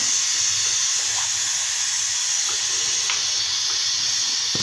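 Steady, loud hiss of steam escaping from a pressure cooker cooking sarson ka saag after its weight is removed, continuous throughout with no talking.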